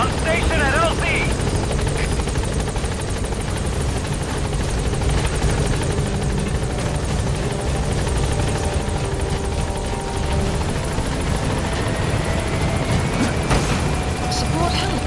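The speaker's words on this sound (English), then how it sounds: "Arriving shortly at LZ. This is B-Quad. On station at LZ." A support helicopter in Metal Gear Solid V: The Phantom Pain arrives at a landing zone, its rotor and engine roaring steadily and loudly throughout, a dense, continuous drone with faint radio-style chatter underneath.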